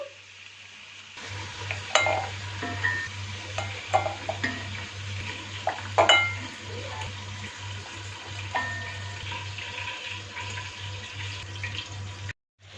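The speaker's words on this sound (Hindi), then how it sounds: "तकरीबन 10 से 15 मिनट हम इसको फ्राई कर लेंगे" Goat head pieces frying in hot oil in a pot, a steady soft sizzle with occasional pops and faint clinks of a utensil stirring, close and continuous with no talking.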